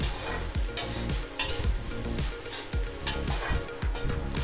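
A spoon stirs fried potatoes and roasted soybeans in a pan: quiet scraping strokes repeat in a steady rhythm over a continuous soft sizzle, close and with no voices.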